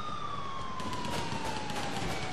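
An ambulance siren in the GTA 4 video game wails continuously with a slowly falling tone over a busy background of game noise, lasting a couple of seconds.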